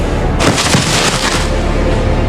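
Gunshots in an audio drama, a loud, dense burst of booming shots and rattling fire over a heavy rumbling background that continues after the volley fades.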